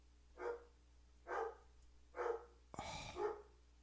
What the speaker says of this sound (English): Can you guys hear the dogs barking a little bit?